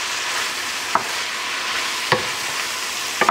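Shrimp lo mein sizzles steadily in a hot pan as it is stir-fried and deglazed, a continuous hiss broken by a few sharp scrapes of a utensil against the pan.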